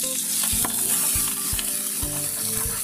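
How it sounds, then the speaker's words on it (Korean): Towel-dried shrimp sizzle steadily in gambas oil in a hot pan, a continuous crackling fry with a few soft clinks and stirring knocks, with no talking. "감바스 오일을 팬에 두르고 키친타올로 새우살의 물기를 제거한 뒤에 감바스 오일에 새우를 구워준다"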